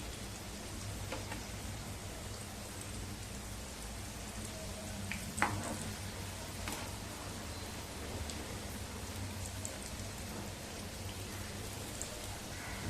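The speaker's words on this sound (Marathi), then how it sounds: "दोन्ही बाजूने छान सोनेरी रंगावरती खरपूस तळून घ्यायच्यात" Colocasia leaf rolls (alu vadi) deep frying in hot oil, turned until golden and crisp on both sides, give a steady, dense crackling sizzle throughout, alone and fairly soft, with one brief clink midway.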